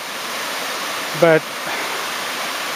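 Small waterfall near Raigoin Temple in Kyoto splashing into a pool, a steady broadband rush of falling water, close and continuous, briefly interrupted by a short spoken word.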